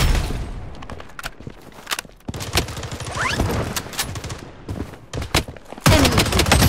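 Gunfire in the first-person shooter Blood Strike, featuring KAG 6 and Vector 28 weapons: loud, rapid automatic bursts and dense fusillades, close and continuous with brief pauses, ending in heavier overlapping fire.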